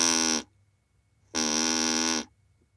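A reed-type sound source sounding alone, without a vocal tract model attached: two steady buzzing tones with dense harmonics, the first about 0.4 s and the second about 0.9 s, separated by silence.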